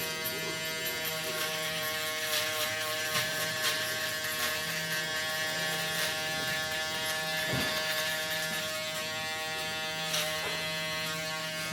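Barber's electric shaver buzzing steadily and loudly while cleaning below the hairline of a line up, a constant humming drone with slight shifts in pitch as it moves over the skin.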